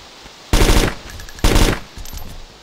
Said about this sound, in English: Someone shooting? Yeah, it's me.